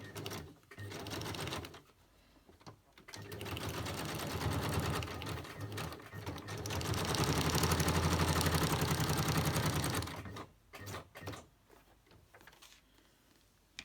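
A sewing machine runs in bursts, a fast mechanical whirring stitch that speeds up and stops, with quiet pauses and handling sounds between runs.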